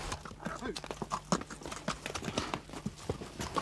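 Small Corsican horses step along a rocky mountain trail, their hooves clopping in an irregular, fairly quiet rhythm at close range against faint outdoor background noise.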